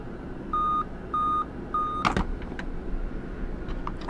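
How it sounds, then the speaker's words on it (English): A Dell Vostro 3550 laptop gives its triple-beep error code at power-on: three clear, evenly spaced tonal beeps, followed by faint clicks and handling noise. "it's still doing a triple beep, which isn't good"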